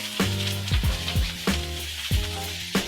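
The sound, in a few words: onions sautéing in a hot pan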